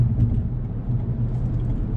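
A 2020 Toyota Corolla drives through a right-hand turn, its engine and road noise forming a steady low rumble with even loudness throughout and no talk.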